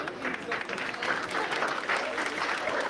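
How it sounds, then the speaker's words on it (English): Short, steady round of audience applause at a billiards exhibition match between Efren Reyes and Thorsten Hohmann in Amsterdam, moderately loud and continuous. "nice round of applause"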